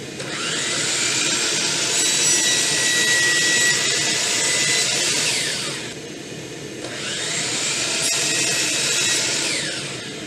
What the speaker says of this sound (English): So I'm going to turn on some vacuum so I can try to contain the mess